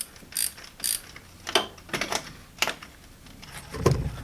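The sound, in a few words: worn BMW E34 engine pulley being turned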